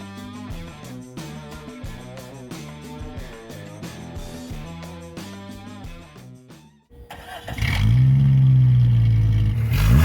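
A stock 1997 Jeep Cherokee XJ, fitted with a lift kit, bigger wheels and tires and an opened-up exhaust, revs loudly and close by in the last few seconds, following a stretch of music.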